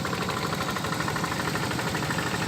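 A hand tractor's engine runs steadily while working a wet rice field in Ciamis, West Java, a continuous close, loud mechanical chug with rhythmic knocking and no voices.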